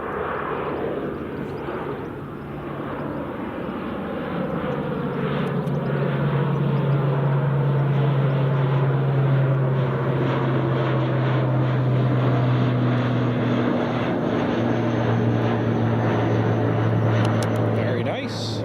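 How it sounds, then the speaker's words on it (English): Aer Lingus ATR turboprop airliner on final approach to Glasgow Airport, a loud, sustained engine drone with slowly gliding propeller tones, heard under continuous commentary from someone talking. "Got an Aer Lingus ATR just on final as well."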